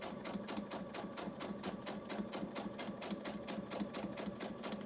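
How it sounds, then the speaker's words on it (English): A sewing machine runs steadily, stitching a 1/4 inch seam on a square-in-a-square quilt block; a fast, even rhythm of needle strokes sounds close and constant with no talking. "So I'm going to take it over to the machine, and so a 1/4 inch seam allowance."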